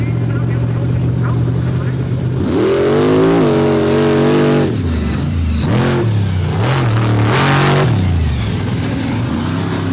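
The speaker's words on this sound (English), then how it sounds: "Mark Hall out of Champaign, Illinois, in the Hemi-powered Raminator." A Hemi-powered Raminator race car at the Bloomsburg off-road track, engine revving and rising in pitch with loud bursts of acceleration, under commentator speech.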